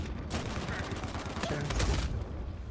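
Gunfire from the video game Uncharted 4 crackles in a quick burst of rapid shots, fairly faint and dense, in a brief stretch of combat.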